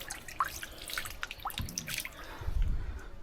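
Water drips and trickles in a rock cave temple, with scattered bright drops echoing over a faint flowing stream and a couple of soft low thumps.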